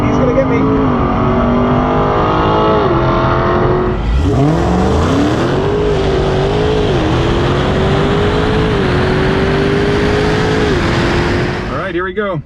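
Drag race cars, among them a Tesla, Dodge Demon, M3 Competition and Grand National, launch and accelerate in a loud continuous engine roar with rising revs, under steady commentary.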